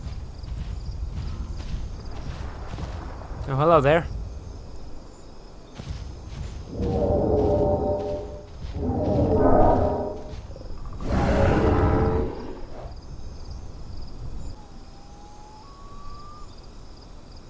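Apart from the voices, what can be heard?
dinosaurs passing nearby in the video game The Isle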